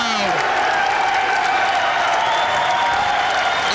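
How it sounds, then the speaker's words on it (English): Loud, sustained crowd roar at a 1997 men's college basketball game between BV and Wartburg in the Siebens Fieldhouse during a timeout, a dense wall of cheering and applause filling the gym throughout. "Timeout, and listen to this crowd."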